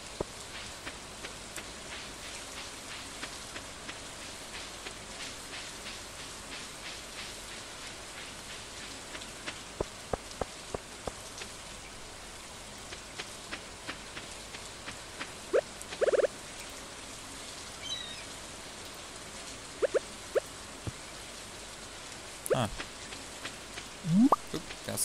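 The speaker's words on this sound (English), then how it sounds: "Raindrops are really loud on them." Rain falling in the Stardew Valley video game, a soft continuous patter of raindrops with scattered sharper drip ticks and occasional brief game sound effects, steady and moderately quiet throughout.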